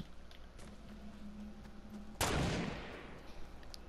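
A single sharp gunshot from a video game cracks out loudly midway, its blast decaying over a second above a quieter, steady background hum.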